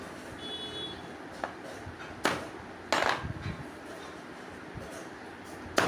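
Raw mango pieces are pounded on a wooden board for village-style mango pickle, making a handful of irregular knocks and thuds, a few sharper and louder, over steady background noise.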